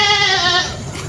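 A goat bleats once, a loud close wavering cry lasting under a second, followed by a low background murmur.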